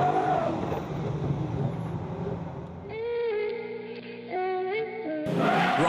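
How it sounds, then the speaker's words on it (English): A V8-powered PS13 rally car of about 600 horsepower launches off the line, its engine roaring loudly, then climbing through sharp rising revs with shifts as it accelerates hard, close and alone. "launches off the line and tries to get all 600 horsepower to the ground"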